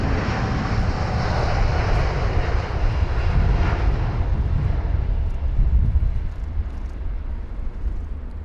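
A British Airways Boeing 787-9 Dreamliner bound for Beijing roars loudly through its departure at London Heathrow, a broad sustained jet engine rumble that slowly thins and fades toward the end.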